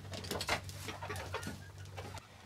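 Chickens in a backyard flock in fall make soft, scattered clucks and calls over a steady low hum, fairly near and moderate in level.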